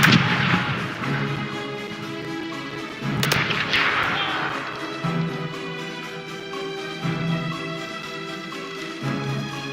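Ship cannons fire in Corsairs Legacy, with a loud blast at the start and another about three seconds later, each rumbling away into a bed of music and sea ambience.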